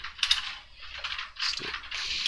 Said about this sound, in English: It's my hamster. He's playing in his wheel.